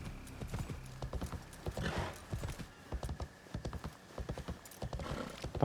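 A horse's hooves clip-clop steadily in Assassin's Creed Shadows on PS5, a close, even trotting rhythm with a brief whinny, the game's ambient backdrop running underneath.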